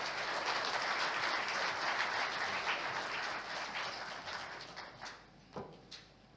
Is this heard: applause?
yes